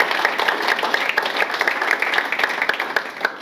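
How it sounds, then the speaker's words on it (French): A seminar audience claps for BMA, a lively burst of many hands with sharp individual claps standing out, close and loud, tapering slightly near the end. "Est-ce qu'on peut applaudir pour BMA, s'il vous plaît?"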